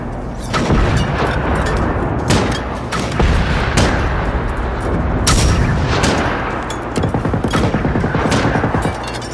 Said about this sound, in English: One is shooting a machine gun.